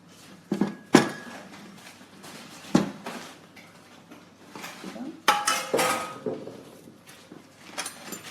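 Cake mixture for a piña colada giant cupcake is divided between two silicone baking pans, with scattered clinks and scrapes of utensils against bowl and pans, close and irregular, alternating with quiet moments.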